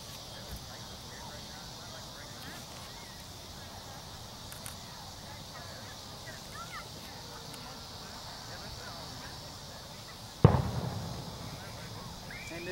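A single distant firework bang cracks out near the end, with a short rumbling tail, over steady outdoor ambience in St Louis during the total solar eclipse of August 2017.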